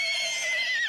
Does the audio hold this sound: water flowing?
no